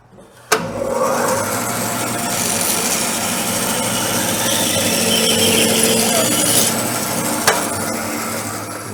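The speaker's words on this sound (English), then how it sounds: "So I'm just going to adjust my bandsaw level and we'll get this going." A bandsaw resaws a board in one continuous, loud whirring cut lasting several seconds, bracketed by sharp clicks at the start and finish, with no talking.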